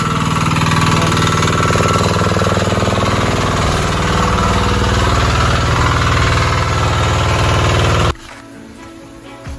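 A small engine-driven water pump at a backyard catfish farm runs loudly and steadily with a throbbing mechanical drone, then cuts off abruptly, leaving near quiet.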